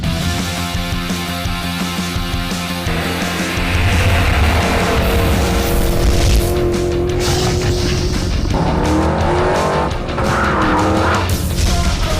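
Race cars at Weedsport Speedway in Weedsport, New York, engines roaring loud and near throughout, with rising and falling revs and a few tire squeals as cars pass.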